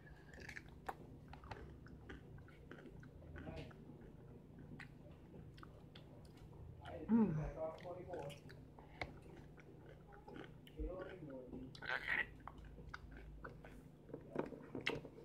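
Someone chews a big hearty dill pickle up close, with soft wet squishing bites and crunching spread across the stretch and a louder bite partway through.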